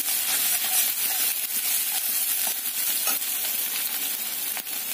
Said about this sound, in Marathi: लसणाचा, मिरचीचा कच्चेपणा कमी होईपर्यंत आपण याला असंच तेलामध्ये छान असं परतवणार आहोत।